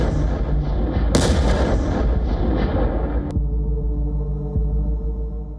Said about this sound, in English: Just a devastating blast that tears through trenches, bunkers, and buildings